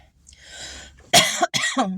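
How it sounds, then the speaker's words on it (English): A soft breathy exhale leads into two sharp, close coughs in quick succession. "I'm still fighting this cough."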